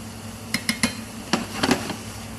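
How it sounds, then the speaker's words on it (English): Vegetables and meat sautéing in a pan for arancini, with a spatula or spoon striking the pan in several sharp, close metallic clanks over a low steady background. "So I'm sauteing here my vegetable, my meat, and everything beautifully."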